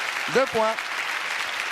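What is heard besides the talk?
studio audience applause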